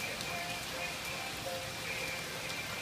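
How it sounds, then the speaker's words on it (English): Rain pours down in Burns Park, Arkansas, a steady, dense hiss of falling drops on surfaces that stays even and close throughout. "Look, it's raining."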